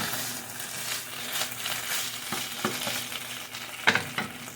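Leftover turkey frying in a pan over high heat, a steady close sizzle with a few sharp stirring scrapes and clicks near the end, no voices.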